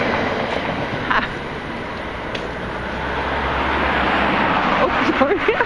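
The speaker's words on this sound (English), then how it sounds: "Oh, there's a train." A train passes near a walking route, a steady broad rumble and rushing roar that swells slightly and holds throughout, with faint voices and a few clicks over it.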